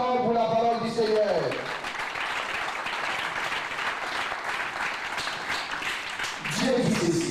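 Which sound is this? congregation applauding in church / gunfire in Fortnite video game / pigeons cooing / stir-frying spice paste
congregation applauding in church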